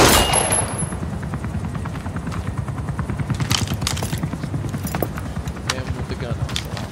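An automatic weapon in Metal Gear Solid V: The Phantom Pain fires in a steady rapid stream of shots, loud and close, with a sharp burst at the start and a voice talking over the shooting.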